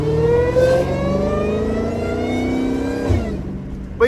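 A Dodge Hellcat's engine revs and accelerates up close, its loud rising whine climbing through the gears before the pitch drops near the end.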